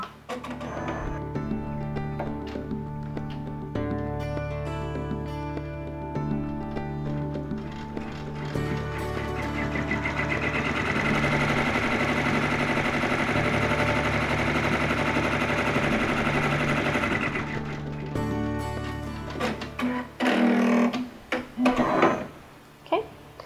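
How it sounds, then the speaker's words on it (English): An embroidery sewing machine stitching an appliqué tack-down on quilting fabric, a steady rapid mechanical whirring hum with shifting pitch, ending in a few louder irregular clunks. "Now the machine is going to tack down this third fabric."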